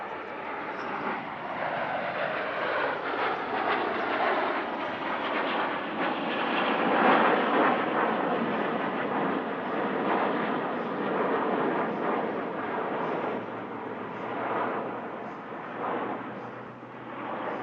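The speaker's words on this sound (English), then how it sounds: "They've flown the Alpha jet since 1981, initially displaying 7 aircraft, but increasing to 8 1 year later." Dassault-Dornier Alpha Jets of the Patrouille de France flying at the Air Legend airshow in Paris-Villaroche, a loud continuous roaring jet rush that swells and fades as the formation passes, with no voices.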